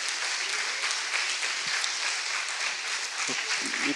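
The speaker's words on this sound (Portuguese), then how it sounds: "dê a sua salva de palmas" A church congregation breaks into a loud, sustained salvo of applause during a worship service, continuous close clapping from many hands with a few voices mixed in underneath.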